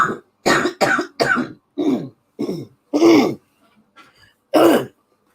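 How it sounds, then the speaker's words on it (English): A person coughs and clears their throat repeatedly, about seven harsh bursts in quick succession, close and fairly loud, with a short pause before a final cough; no words are spoken. "I'm going to cough again."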